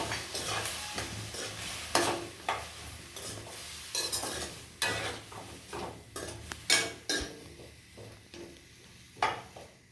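A spoon stirs sambar powder and salt into food cooking in a pan, giving repeated scraping strokes and clinks over a soft sizzle, close and steady with no talking.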